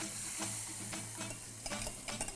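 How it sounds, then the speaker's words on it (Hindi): Red chillies and asafoetida sizzle in hot oil, a close, steady crackling frying hiss with scraping stirring taps that grow more frequent toward the end. "जब तेल गर्म हो जाए उसमें डालो लाल मिर्चा, लाल मिर्चे के साथ हींग"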